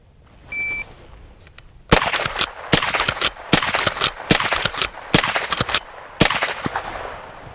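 Madpig Custom lever-action rifle in .357 with Midwest Industries parts firing a rapid string of about ten loud, sharp shots roughly once per second, each crack standing out alone, with a faint beep before the first shot.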